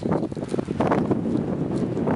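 Wind gusting over an open shore, a rough, buffeting rumble against the microphone that swells and eases, with no talk.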